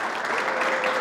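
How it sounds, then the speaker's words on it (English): Applause for JROTC cadets at a superintendent's breakfast, a steady round of clapping from a seated audience that holds level for the whole second with no voices over it. "I'd like to ask that we give the cadets that spoke a big round of applause"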